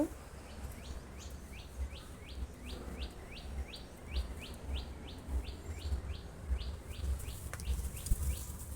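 Sparrows around their nest give a long run of quick, evenly spaced chirps, fairly close and steady over a low outdoor background hum.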